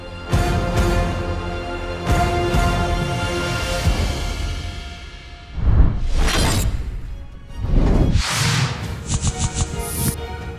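Building glass shatters in several sharp bursts, with crashing breaks near 6 and 8 seconds and bright tinkling debris at the end, all over a dense background of music-like tones.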